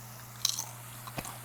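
A bite into crunchy fried tortilla strips in migas con huevo, a Mexican breakfast, gives a sharp crunch followed a moment later by a second, softer chew, both close and alone over a low steady hum.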